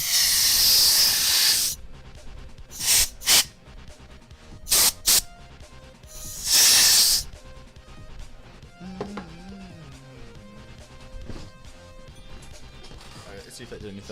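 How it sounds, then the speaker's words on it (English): Compressed air sprays into a pit in a basalt delta model in loud hissing blasts: a long opening burst, then several short puffs and one more sustained blast, with quieter faint sounds afterward. "I'm gonna open this up and spray some compressed air in there."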